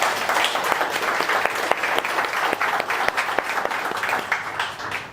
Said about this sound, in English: So if we have a round of applause for Jihan, that would be great.